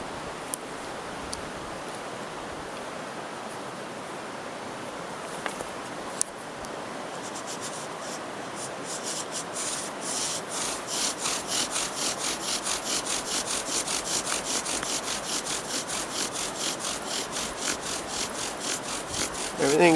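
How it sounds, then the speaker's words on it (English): Steady scraping and grinding of a knife tip twisting into a damp wooden hearthboard, boring a divot, a rhythmic rasping that grows more regular and pronounced in the second half, close up. "it really makes a nice hole, a divot in your hearthboard for a bow drill"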